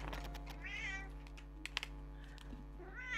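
A cat meows twice in the Little Witch in the Woods video game, two short rising calls over a soft game music bed, spaced about two seconds apart.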